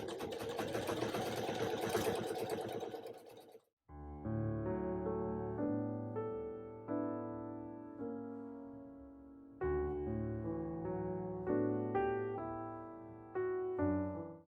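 A sewing machine stitches bias tape onto a dress in several steady runs, starting and stopping with a whirring hum close by, after a brief rustling burst at the start.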